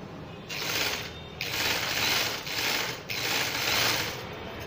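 A sewing machine stitches stretchy lace fabric for umbrella-style sleeves, running in three or four close, whirring bursts of rapid mechanical chatter with short pauses between them and no talking.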